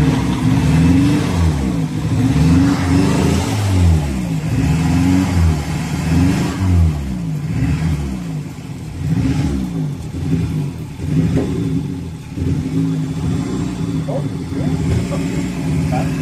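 A junked car's engine rumbles and revs repeatedly in uneven bursts, loud and close, with voices talking in Spanish over it.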